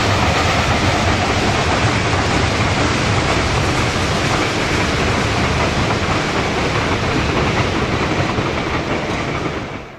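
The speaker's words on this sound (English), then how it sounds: "The locomotive was built by Baldwin in 1907 and has been operating at the museum since 2010." A 1907 Baldwin steam locomotive running at a museum gives a loud, continuous broadband roar with rhythmic clickety-clack of wheels over rail, steady throughout before fading at the very end.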